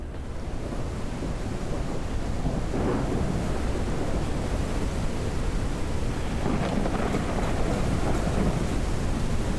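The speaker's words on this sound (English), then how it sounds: "Oh, we got storm coming." Storm sweeping over a high sky setting in the game Forever Skies: constant roaring wind and surf-like rushing fill the whole stretch, with low thunder rumbles swelling around the three-second mark and again near the end, with no talk.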